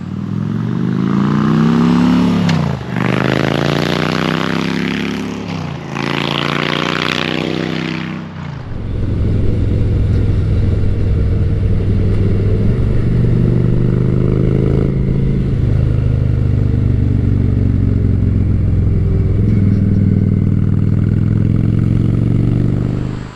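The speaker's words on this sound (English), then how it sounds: "The final step in this service is to take the bike out on a test drive" A Honda Shadow 750 motorcycle on a test ride after an oil change, its engine revving loudly up through several gear shifts before settling into a steady, throbbing cruise drone with wind rush, close and continuous.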